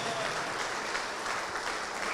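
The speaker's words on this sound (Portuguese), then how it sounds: "Vamos aplaudir mais." A church congregation claps together during a worship service. The applause is steady and fairly loud and lasts for the whole short stretch, with faint crowd murmur underneath.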